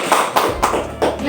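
A handful of claps from a seventh-grade maths class applauding a student named Intan, a few close, sharp slaps spaced irregularly over a second or so, with a voice beneath them.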